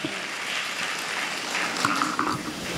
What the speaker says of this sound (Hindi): ताली है बजा के परमेश्वर को धन्यवाद दीजिए